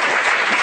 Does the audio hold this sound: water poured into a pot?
no